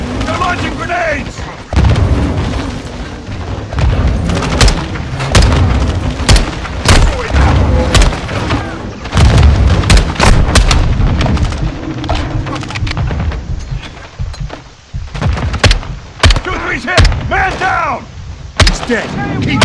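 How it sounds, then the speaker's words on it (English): Grenade explosions and dense gunfire from the Modern Warfare 2 campaign, loud booms and rapid rifle bursts cracking continuously throughout, with voices shouting over the battle. "Incoming! Take cover! They're launching grenades!"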